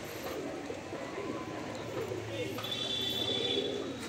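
Domestic pigeons, kept as a fancier's flock, coo in low repeated calls amid a busy background, with people talking nearby.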